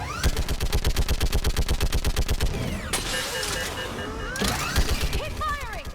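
Rapid sustained automatic gunfire from a firefight in Mass Effect 3, a steady loud stream of shots for about three seconds, then scattered bursts and shots over a busy battle backdrop, with voices shouting nearby.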